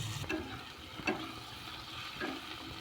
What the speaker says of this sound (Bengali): টুকরো করে রাখা টমেটো ও কাজু বাদাম দিয়ে এটাকে কিছুক্ষণ নাড়াচাড়া করে নেব